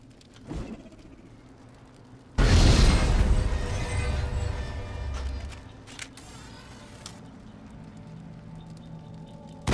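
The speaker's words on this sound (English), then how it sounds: "R to throw a grenade, wait for time detonation, or press R again to detonate." A grenade blast in Mass Effect goes off suddenly and heavily, its booming roar swelling and then rumbling away over several seconds.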